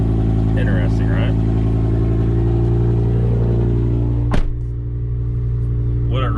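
A BMW M5 engine running steadily at idle, a constant loud droning hum close by, with brief bursts of voices, a single sharp clunk partway through, and the engine carrying on afterward.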